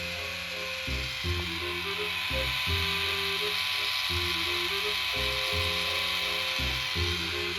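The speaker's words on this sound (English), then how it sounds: "I forgot how loud the motor was, but she just turns side to side." A loud motor drives a motorized K'Nex Halloween prop that turns side to side through a slowing gear. It makes a steady buzzing whir that rises and drops in pitch with each turn and repeats in regular cycles, with no voices.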